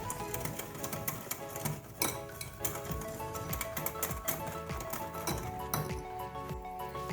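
A spoon stirs milk powder, sugar and milk together in a bowl for a milk barfi, giving quick, repeated clinks and scrapes against the bowl over steady background music.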